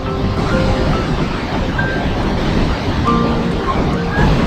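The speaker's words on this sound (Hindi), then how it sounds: "यहाँ से सरस्वती नदी एकदम पूरे अपने तीव्र रूप में बह रही है" Saraswati river at Mana village rushing in full force, a dense, loud, continuous roar of churning water with some wind buffeting close to the microphone, no talking.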